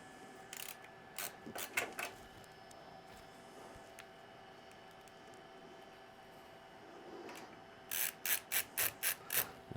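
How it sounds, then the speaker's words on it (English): A ratcheting screwdriver tightens screws holding a power supply in a built rig: quick clicking bursts near the start and a sharper rapid run of ratchet clicks at the end, over a steady hum. "Just get them all started and then tighten up on the 4th screw."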